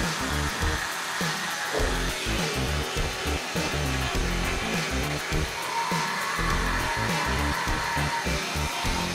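An Oral-B Genius 9000 electric toothbrush runs with a continuous buzzing drone, loud and steady with pulsing low-end flutter, and no talk over it.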